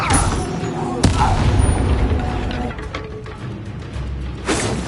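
Expelliarmus spell cast in Hogwarts Legacy, a sharp magical blast near one second over busy combat sounds with further bursts toward the end.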